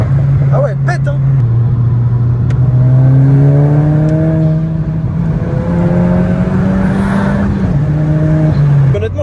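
A modified VW Golf 5 GTI, about 200 hp and near Stage 3 tune, holds a loud, close, steady engine drone while accelerating, its pitch rising gradually, with a few faint pops and voices talking over it throughout.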